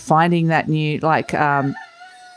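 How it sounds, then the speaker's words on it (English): A rooster crows loudly and close by in a backyard, a long harmonic cock-a-doodle-doo stretched over about two seconds, with a brief snatch of speech overlapping near the start. "So the rooster, if you're wondering what that sound is."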